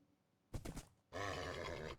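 A white horse in Minecraft whinnies twice: a short snorting burst followed by a longer, loud, wavering neigh, close and isolated.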